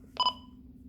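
A DSC individual call alarm on an Icom IC-M424G marine VHF radio: one short electronic tone burst lasting about a tenth of a second over a low steady hum, then quiet.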